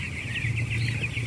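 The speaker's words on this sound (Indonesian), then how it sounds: "Apakah suara ayam ini ada gangguan" Broiler chickens in a closed poultry house keep up a continuous mass of overlapping clucks and chirps over a steady low hum.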